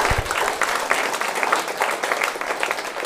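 Audience applause after a talk on ballads and the modern music industry, a dense crowd of clapping hands at moderate loudness, steady throughout.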